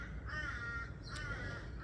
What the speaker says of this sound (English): these crows, they know.